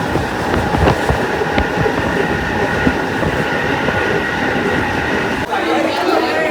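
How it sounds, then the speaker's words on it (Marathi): A train rumbles and clatters close by at crowded Dadar railway station, with a steady mechanical roar, rhythmic wheel noise and a crowd murmuring underneath. "दादर रेल्वे स्टेशनला आलो आज बरीच गर्दी"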